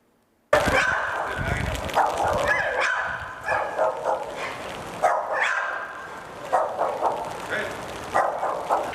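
Several dogs kept in a house on the outskirts of Padua bark and yelp in repeated close bursts, with voices talking over the commotion throughout.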